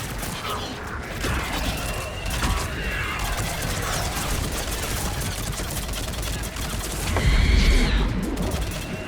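Sustained gunship gunfire in the video game Mass Effect Legendary Edition rattles steadily at a fairly even level, swelling near the end, with voices speaking over it.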